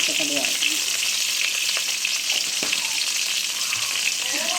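Rice and mustard seeds frying in a pan, a steady dense sizzle with scattered pops and spatula scrapes throughout, close and loud with no voices.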